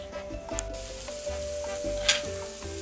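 Vegetables sear in well-heated oil for a ramen dish, crackling in a close, continuous sizzle broken by occasional stirring clatters.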